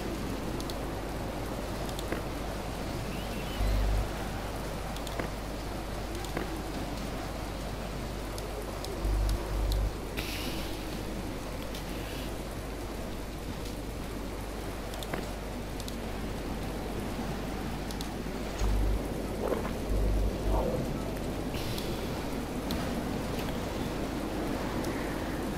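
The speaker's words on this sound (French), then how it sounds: "Sérieux, ça pourrait pas se calmer un peu cette pluie" Heavy rain pouring in Planet Explorers, a dense steady hiss throughout with occasional low thumps and distant rumbles, no talking.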